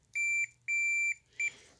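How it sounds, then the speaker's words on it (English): A continuity tester beeps while checking relay contacts with the power off, giving three clean electronic tones, two longer and a short final one, close and clear over near silence. "We can do continuity on 5 to 4. It beeps."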